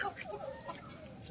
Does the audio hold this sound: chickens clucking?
yes